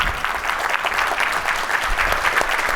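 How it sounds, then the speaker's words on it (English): An audience gives a round of applause at a 2024 election preview event: a dense, steady clatter of many hands that holds at the same level throughout. "A round of applause to our Chief Justice as well"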